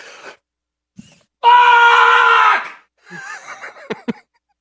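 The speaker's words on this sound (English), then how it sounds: "You scream loudly" A person lets out a loud, sustained scream lasting over a second, with short bits of voice before and after it.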